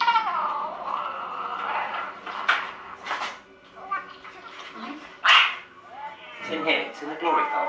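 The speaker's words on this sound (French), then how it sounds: "des miaulements de chats stridents se font entendre" Shrill, wavering cat meows cry out repeatedly amid other sounds, some drawn-out and piercing, fairly close, with a voice talking at times.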